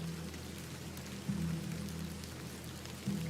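Steady rain falling in The Excavation of Hob's Barrow video game, a constant soft hiss of rainfall with low rumbling undertones, fairly faint and continuous with no voices.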